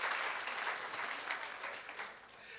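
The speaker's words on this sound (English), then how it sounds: "You can clap if you want to." Audience applause at a Martin Luther King Jr. community unity dinner, a short burst of many hands clapping in a hall, fairly full and sustained before easing off slightly.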